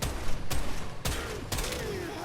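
A shotgun in the video game Warframe fires four sharp, evenly spaced blasts about half a second apart, each with a brief tail, over steady game background noise.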